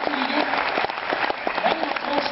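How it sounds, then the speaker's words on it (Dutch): An audience at a Dutch children's show claps steadily for a couple of seconds, a dense, moderately loud burst of applause with no clear talk over it. "Geef ze nog een applaus."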